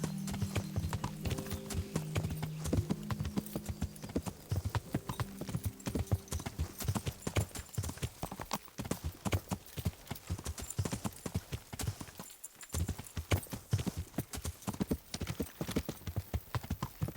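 Horse hooves clip-clop steadily in Kingdom Come: Deliverance, a rapid rhythmic beat of hoofbeats continuing throughout, with a brief neigh, a short break midway, and tonal game sounds early on.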